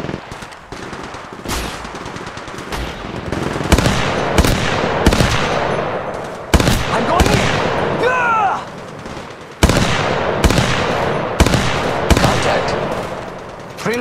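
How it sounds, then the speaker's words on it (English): Rapid automatic gunfire from the mobile shooter Apex Legends Mobile rattles in loud, close bursts and repeated volleys, with short gaps, a rising whistling effect and faint in-game voice callouts. "Another squad is attacking us!"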